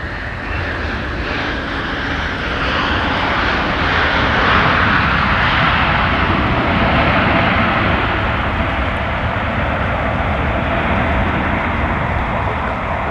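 An airliner taxis at Minneapolis–St. Paul airport in winter, a loud, steady jet engine roar that swells slightly mid-way and stays constant, close by with no voices.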